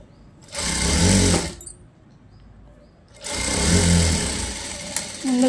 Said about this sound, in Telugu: హ్యాండ్స్ రెడీ చేసేసుకున్న తర్వాత చాలా సింపుల్గా దాని స్టిచ్చింగ్ అనేది ఎలా చేయాలో చూపిస్తాను.